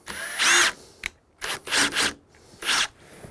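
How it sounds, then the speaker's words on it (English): A power drill cuts into a wooden door while installing a keypad lock set, firing in short, uneven bursts with quiet gaps between them, close and loud. "now you can only drill so far at a time"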